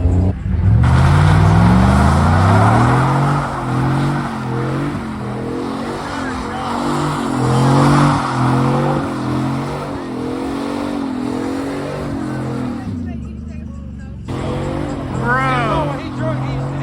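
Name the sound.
truck revving and tires skidding at truck meet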